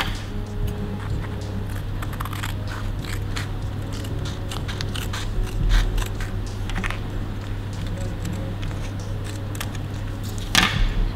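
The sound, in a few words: cutting a paper triangle in half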